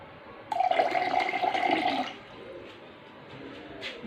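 Very cold, nearly freezing water poured for homemade mango juice, a loud splashing gush for about a second and a half that then falls away to a quiet background with a faint trickle.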